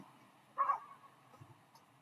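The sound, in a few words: dog barking in the distance outdoors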